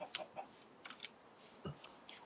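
Minecraft chickens cluck softly in short, scattered bursts, a few quick clucks spaced irregularly, faint and slightly distant with no other sounds around them.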